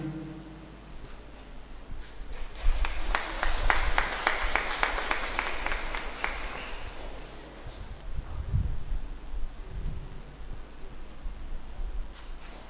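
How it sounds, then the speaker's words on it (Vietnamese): Church congregation giving long applause at a new priest's thanksgiving Mass, a swell of many hands clapping that rises, holds for several seconds, then fades back into quiet room ambience. "Xin công đoàn cho một tràng pháo tay thật dài để chúc mừng gia đình ông bà cố và giáo xứ."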